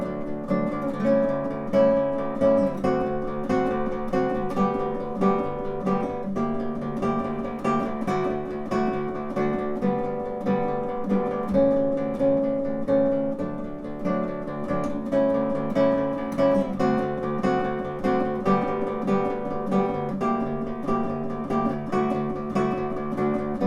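A solo classical guitar plays a fingerpicked arrangement of a song, moving from a transition into the chorus in a higher octave, with plucked notes in a steady flowing rhythm and no voices.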